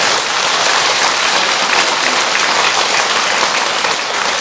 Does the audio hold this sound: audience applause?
yes